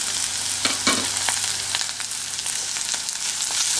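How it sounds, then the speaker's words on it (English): Crushed ginger, garlic and green chilies frying in a pan for a lemon shrimp curry: a close, steady crackling sizzle with scattered light stirring clicks throughout, and no one talking. "Now I am going to add our crushed ginger, garlic and green chilies."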